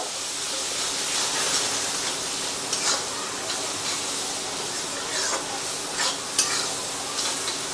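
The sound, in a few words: masala spices being stirred and fried in a pan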